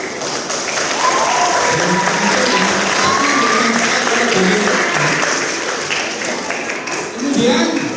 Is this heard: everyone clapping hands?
yes